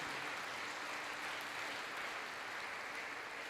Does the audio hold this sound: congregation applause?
yes